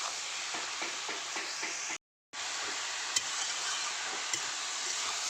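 Shredded cabbage fries in a pan with green chillies and pre-fried potato, giving a steady close sizzling hiss. Soft stirring scrapes and occasional sharp ticks are heard, and there is a brief gap of silence partway through.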